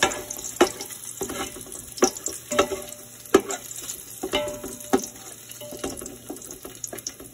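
Onions fry in oil for biryani with repeated utensil clinks and stirring strokes over a soft sizzle, close by, and a watery rush mixed in.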